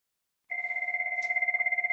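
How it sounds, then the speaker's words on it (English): A desk phone on a Webex Calling cloud setup rings with an inbound call, a steady electronic two-tone ring pulsing rapidly and evenly, loud and close, starting after a brief silence with no talk over it. "an inbound phone call should come in here that I can pick up"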